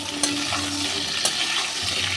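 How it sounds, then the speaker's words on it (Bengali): Rounds of pointed gourd sliced into coins and lightly salted fry in hot oil, giving a steady close sizzle with faint clinks of stirring, no voices. "এবার এই তেলেই দিয়ে দেব পটল"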